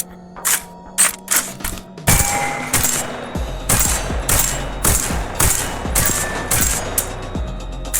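Rapid gunfire from a recoil-heavy firearm in the VR shooter Tactical Assault VR: a few separate shots, then sustained bursts of loud, sharp reports with mechanical clatter between them, and no talking.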